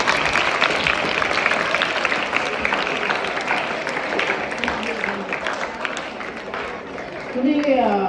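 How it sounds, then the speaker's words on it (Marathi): An audience at a science magic show claps in a dense, steady burst that fades slightly, then a voice speaks briefly at the end. "टाळ्या वाजवा मग"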